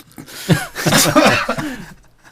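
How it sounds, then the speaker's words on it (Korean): A single sneeze bursts out close and loud, with a brief throaty build-up and a breathy aftermath, in a quiet indoor setting. "갑자기 재채기가 나"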